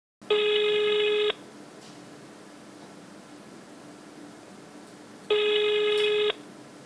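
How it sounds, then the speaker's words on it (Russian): Telephone ringing unanswered: two long electronic ring bursts, each about a second, separated by several seconds of quiet hiss, sounding clear and close. "на телефонные звонки он не отвечал"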